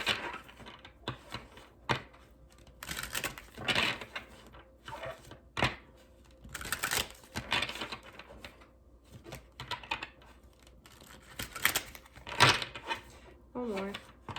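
Crisp papery flicks and riffles of tarot cards being shuffled in repeated bursts, close up, with a voice speaking in between.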